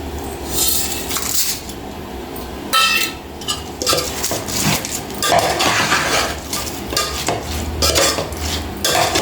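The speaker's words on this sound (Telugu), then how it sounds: "ఇప్పుడు మనం ఈ మసాలాలన్నీ వేసేసుకుందామండి" Masalas added to a veg dum biryani pot and stirred, with steady scraping of a spoon against metal, clinks and light sizzling, close and continuous without talk.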